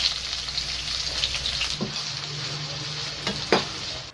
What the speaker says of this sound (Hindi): प्याज फ्राई करूँगी जो मैंने इस तरह से काट लिए हैं